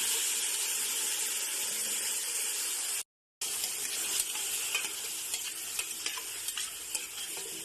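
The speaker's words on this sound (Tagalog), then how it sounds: "Then, ilagay na ang ating chicken feet." Chicken feet sauteed in a pan with garlic, onion and ginger give a steady, loud, close sizzle with stirring scrapes. The sizzle cuts out for a brief silent break and then resumes, with no talking.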